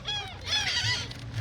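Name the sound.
seagulls calling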